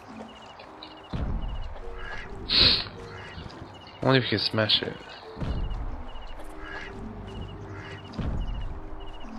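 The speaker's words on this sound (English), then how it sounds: "oh, a goose" A goose honks in the video game Herdy Gerdy with a few short, nasal honks, the strongest pair close together midway, heard between stretches of someone talking.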